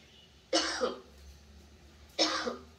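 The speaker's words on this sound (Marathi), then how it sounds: "आणि कफिंग म्हणजे आपण खोकला काढतो तसं" Two separate coughs about a second and a half apart, each a sharp, harsh burst with a short rough tail, fairly close with quiet between.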